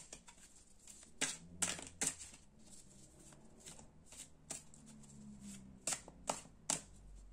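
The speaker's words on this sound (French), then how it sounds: "Je vais ressortir une autre carte pour plus de ressenti" Tarot cards shuffled and drawn, with crisp riffling bursts and sharp snaps recurring irregularly against a quiet room, close and fairly faint.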